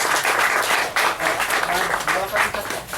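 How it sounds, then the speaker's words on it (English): A steady round of applause from a crowd, many hands clapping continuously at a fairly loud level. "Can we give them a good round of applause?"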